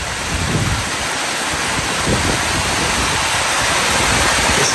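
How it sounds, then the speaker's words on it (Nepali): Floodwater rushing down a swollen river in a sudden flash flood, a loud, dense, continuous roar of churning water filling the whole clip, near and steady with no voices. "बाढी आइसकेको अवस्था छ।"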